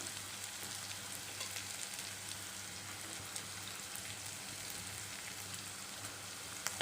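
Ginger garlic paste sautéed in hot oil, a soft, even sizzling hiss with faint crackles that holds steady at low volume throughout, with no talk.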